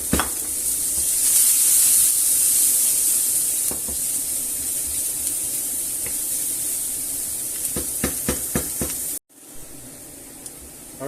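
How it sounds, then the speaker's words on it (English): Chopped onion and garlic sizzling in a hot pan with pork residue, a loud, bright, continuous sizzle with a series of stirring scrapes and taps toward the end, then a brief cut and a quieter sizzle. "Add the onion and garlic and gently brown it off."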